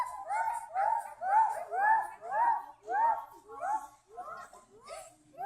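Children imitating dogs, a group of young voices yelping and barking in a rapid series of rising, whining yips, loud and close, fading toward the end.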